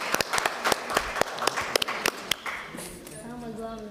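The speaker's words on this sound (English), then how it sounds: "Let's give a round of applause to each other." Scattered clapping from a conference audience, distinct individual claps in an uneven rhythm that thin out after a couple of seconds, followed by people talking nearby.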